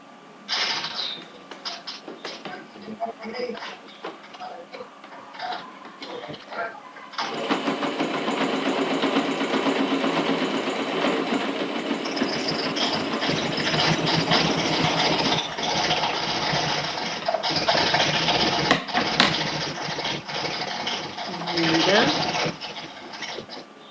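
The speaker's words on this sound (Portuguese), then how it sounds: "Viro pra dentro, volto a virar e faço o acabamento da última costurinha." A sewing machine stitches the final seam of a square fabric toilet paper holder, starting with short quieter bursts, then running loud and steady in long stretches, with a person speaking nearby.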